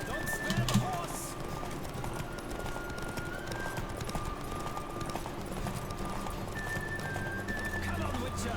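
Galloping horse racing in Witcher 3, hooves pounding in a fast continuous rhythm beneath game ambience and music, with speech over the top and a brief louder knock near the start.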